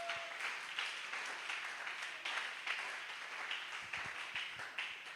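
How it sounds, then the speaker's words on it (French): A church congregation applauds loudly for the king of kings, a sustained wash of many hands clapping in rhythmic surges, somewhat distant and continuous throughout. "Acclamez d'abord très fortement pour le roi des rois."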